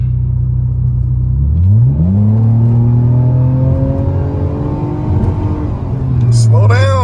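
A 2009 Nissan Maxima drives and accelerates, its engine note climbing as it revs up through a gear and then holding a loud, steady drone, heard from inside with occasional voices.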